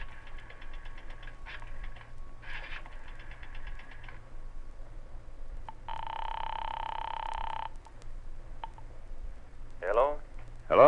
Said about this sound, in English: dropped a nickel in the slot, and dialed